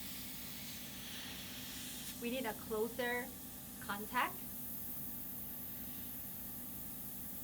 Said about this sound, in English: start spraying the oxygen formula on the skin